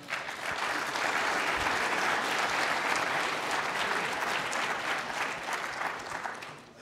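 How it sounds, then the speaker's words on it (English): A steady round of applause from an audience at a collegiate cyber defense competition awards ceremony, dense and sustained clapping throughout, moderately distant and without speech. "round of applause"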